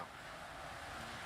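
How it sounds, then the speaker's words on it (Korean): A wind sound effect plays over a church sound system during a youth worship service. It is a steady, soft rushing hiss that stays at an even level throughout, with no speech. "우리가 여기서 함께 예배드리고 있는데 갑자기 바람 소리가 들린다고 생각을 해보자고요"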